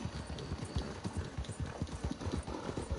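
Hooves of a war horse trot across ground in Red Dead Redemption 2, a steady close clip-clop rhythm with occasional faint snorts from the animal.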